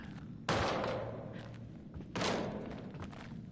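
Banging on a door in the horror video game Until Dawn, heard as two heavy, booming thuds spaced about two seconds apart, with no talk over them.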